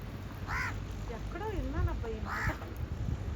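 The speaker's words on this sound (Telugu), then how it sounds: "ఎక్కడ కాకులు కావు కావు కావు" Two hoarse caws ring out about two seconds apart over a steady outdoor hum, with a voice-like warbling sound between them.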